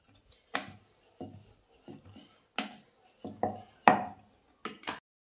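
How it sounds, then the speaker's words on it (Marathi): A rolling pin rolls out small puris of dough for besan ladoo in a home kitchen, producing about a dozen separate soft knocks and rubbing taps at an irregular pace, close by with silence between them. "छोट्या छोट्या पुऱ्या लाटून घ्यायच्या"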